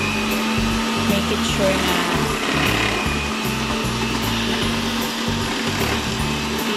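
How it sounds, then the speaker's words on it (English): A kitchen food processor grinding carrots: a steady, loud whirring motor drone with a rough, rhythmic chopping texture underneath, as a voice speaks briefly over it. "ito po ang aking food processor. I-grind ko na po yung aking carrot."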